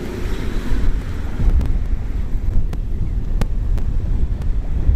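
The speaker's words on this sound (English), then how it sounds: "Yeah, it's really windy." Strong wind on a bridge in Tokyo between Gotanda and Shinagawa on an evening walk, buffeting the microphone in loud, steady rushing gusts that fill the whole clip, with no voices.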